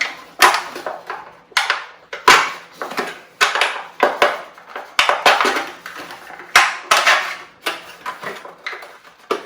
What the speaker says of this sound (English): Take a fork, take the backside of these little trays and start poking some holes.